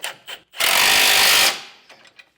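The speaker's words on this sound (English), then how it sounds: "I'm going to take a 3/4 inch wrench and socket. I'm going to go ahead and tighten these back ones down first." Bolts on an EcoHitch hidden front-mount trailer hitch on a 2022 Ford are tightened with a 3/4 inch socket. A few light clicks come first, then a single loud, close, one-second whirring burst, and finally some faint metallic taps.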